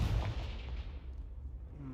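Confringo fire spell blast in the video game Hogwarts Legacy, a loud booming burst at the start that tails off into a low rumble over about two seconds.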